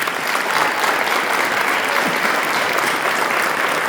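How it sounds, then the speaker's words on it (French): Loud, sustained applause from a crowd at a Sainte-Cécile concert and medal ceremony, clapping steadily and closely throughout, without pause. "Et on peut l'applaudir bien fort."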